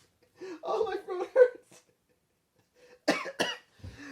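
A person with a sore throat coughs in a couple of short clusters of rough hacking bursts, close and clear, separated by a quiet pause, mixed with a bit of vocal chuckling.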